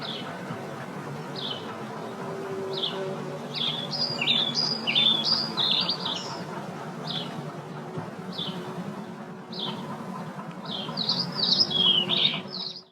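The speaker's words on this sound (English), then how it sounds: "For those of you who thought those sounds of birds too brief, here is the same audio again, slowed to 3/4 speed" Short bird chirps and tweets, slowed to three-quarter speed, repeat in small bursts over a steady low background hum, some calls closer and brighter than others.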